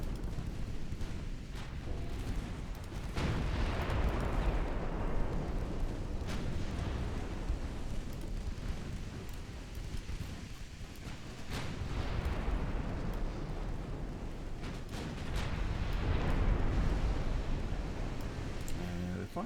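Naval gunfire and shell impacts from the warship battle game Ultimate Admiral Dreadnoughts, with continuous rumbling booms and blasts that swell and fade, loud and dense throughout.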